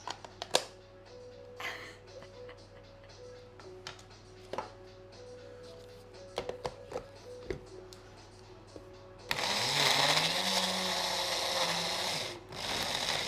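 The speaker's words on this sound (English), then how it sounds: "Why is the blender from Star Wars?" A kitchen blender, used while making homemade pasta and bolognaise, roars loudly for about three seconds with a rising whine. It follows a stretch of quiet clicks and clatter.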